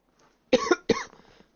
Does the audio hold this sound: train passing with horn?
no